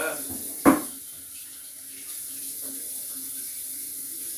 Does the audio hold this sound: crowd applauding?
no